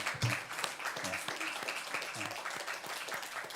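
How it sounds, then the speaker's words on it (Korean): A church congregation claps steadily and rhythmically during a service, a close, continuous patter of many hands with a few voices speaking faintly underneath. "여기는 계속 박수를 치고 계셔야 일단은 쉬지 마시고"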